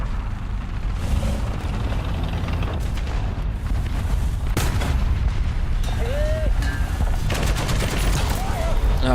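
Rapid bursts and booms of gunfire from a ground realistic battles match in an online tank combat game. The dense, loud firing and explosions overlap throughout, with brief whistling tones near the end.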